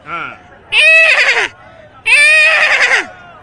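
Someone mimics a horse's neigh, giving two loud, shaky whinnying cries separated by a short pause, close to the listener.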